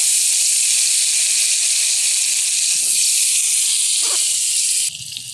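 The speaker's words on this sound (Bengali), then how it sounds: "এবার আমি এই তেলে আলুগুলো ভেজে নেব" Potatoes frying in hot oil in a pan, where duck eggs were fried just before, giving a loud, steady bright sizzle with no break, and a few faint clinks beneath it near the end.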